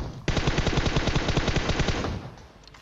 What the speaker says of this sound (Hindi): दूसरी स्क्वाड लड़ने लग जाती है आपस में भैया शॉर्ट गन चल रहे हैं